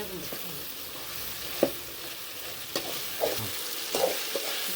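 Ginger-garlic tomato masala sizzles in a pan for an egg gravy, with a soft steady fry beneath several scraping stirs and mashing taps of a spoon against the pan.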